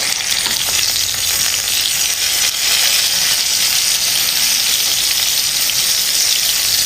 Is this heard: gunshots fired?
no